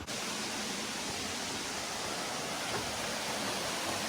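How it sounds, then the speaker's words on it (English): Steady broadband roar of a waterfall in the Springbrook Mountains, continuous and fairly loud throughout with no voices. "we're almost at the waterfall"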